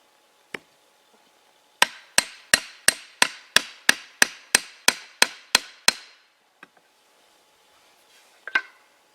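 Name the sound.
leather hammer striking axe head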